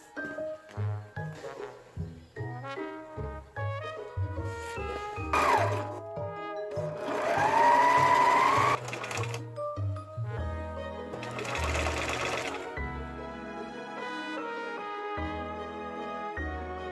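A sewing machine stitching tulle and a cotton lining into gown sleeves runs in short bursts and longer steady runs beneath background music, close by.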